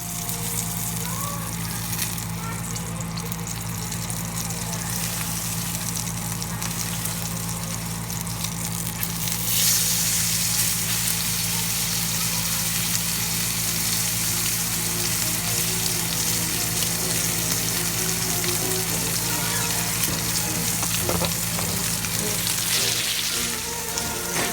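Fat on a dry-aged rib eye steak sears in a hot cast iron skillet, giving a loud, continuous close-up sizzle and crackle that runs steadily throughout over a low hum, with no speech.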